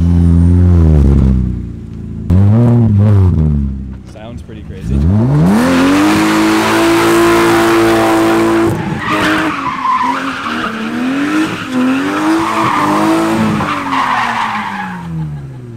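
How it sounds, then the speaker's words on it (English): A BMW with a swapped-in M54 ZHP engine revs hard and spins its tires on a first test drive, the engine note climbing and holding while loud, sustained tire squeal and skidding ring out close by. "It smokes the sheesh out of the tires"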